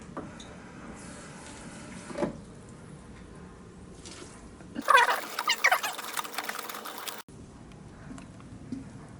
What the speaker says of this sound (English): And now you need a third of water.